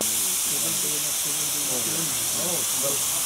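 Steady loud hiss of steam blowing off from the safety valve of a model steam locomotive at a model engineering society running day, with people talking nearby over it.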